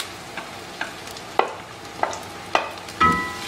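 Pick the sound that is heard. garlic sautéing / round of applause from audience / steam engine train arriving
garlic sautéing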